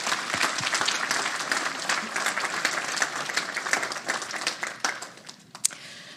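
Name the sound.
audience applause for event planners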